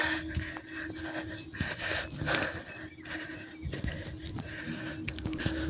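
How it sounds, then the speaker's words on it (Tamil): Heavy, ragged breathing from someone climbing the steep Rengamalai mountain trail, close and continuous, with rustling and footfall noises mixed in. "ரொம்ப மூச்சு வாங்குது."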